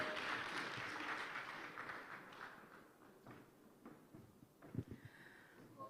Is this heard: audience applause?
yes